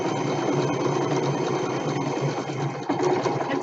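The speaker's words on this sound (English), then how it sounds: "we're just going to sew all the way down" A sewing machine runs steadily, stitching a quilt seam with a quarter-inch allowance, and its close, continuous mechanical whir holds at a constant pace with no one speaking.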